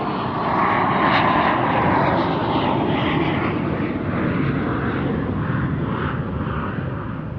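Jet engines of a Tupolev Tu-134 roar loudly and steadily as a broadband rush that slowly fades, with no other sounds over it.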